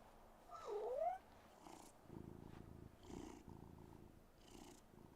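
A cat in the video game Life is Strange Double Exposure purrs softly in low, steady pulses after a brief higher meow-like trill at the start, with no talking.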